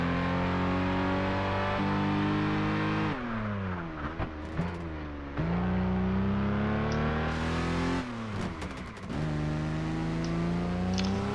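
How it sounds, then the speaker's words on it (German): Race car engine in the video game Project Gotham Racing 4, loud and continuous, revving up and down through gear shifts with sharp throttle drops and climbs, no talk over it. "Wer hätte das gedacht, das wäre ein Rennwagen?"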